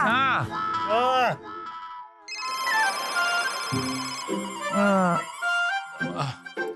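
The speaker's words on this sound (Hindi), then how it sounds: "फोन उठाइए ना।" A household telephone rings in a Hindi TV comedy scene, an electronic melodic ringtone chiming clearly between and beneath voices of people talking.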